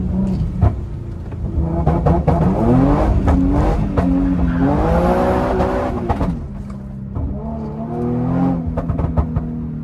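Infiniti G37 being clutch-kick drifted in second gear, a loud engine note rising and falling in pitch with revving and tire noise, steady and close throughout with no talk.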